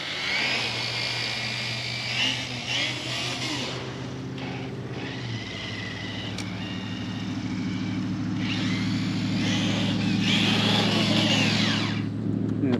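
A Traxxas TRX4 1973 Bronco RC truck runs in second gear, its steady electric motor whine holding close and continuous with a pitch shift midway and rising toward the end, with faint speech in the background.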